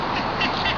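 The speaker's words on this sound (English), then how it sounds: "I heard a goose came inside making noise now." Ducks quack at a lake, a loud, close, continuous burst of calls heard alone.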